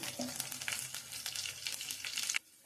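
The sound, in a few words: spices frying in a pan for tamarind pulihora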